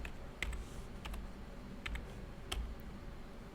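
A handful of soft, quiet keystrokes on a computer keyboard tap out a short Linux command, spaced irregularly against a faint room hiss.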